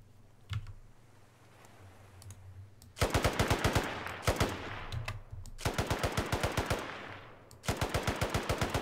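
A Bren machine gun in IFA3 fires in several sharp, loud bursts of rapid rhythmic shots separated by short pauses, after a single shot near the start.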